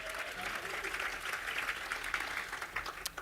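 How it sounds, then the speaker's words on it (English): An audience at a public event applauds, steady dense clapping that carries through the whole stretch at a faint, distant level. "you can give her a round of applause, though, for starters"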